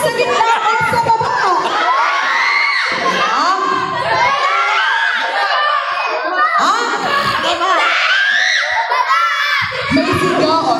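Children scream and shriek loudly over a cheering crowd at a barangay fiesta variety show in Manila, with excited voices and whoops rising and falling continuously throughout.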